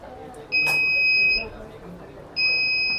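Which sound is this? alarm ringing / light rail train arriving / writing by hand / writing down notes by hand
alarm ringing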